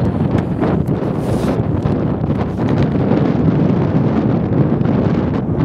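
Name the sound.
wind blowing on microphone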